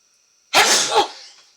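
A single sharp sneeze bursts out close by after a quiet moment, its breathy tail trailing off quickly.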